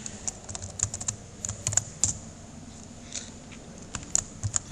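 Typing on a computer keyboard, close, light clicks in uneven bursts with short pauses, steady and alone with no speech.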